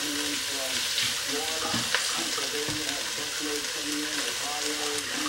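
Tap water runs steadily over freshly dropped vegetables being washed in a kitchen sink, a continuous splashing hiss with light rattling and handling noises throughout.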